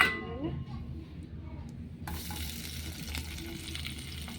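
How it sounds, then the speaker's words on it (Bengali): Fish fries in hot oil, a quiet crackling sizzle that grows busier after a brief clink, steady and close at low volume. "আমি এই তেলে মাছটা রান্না করে নেব তো এখানে তেলটা গরম"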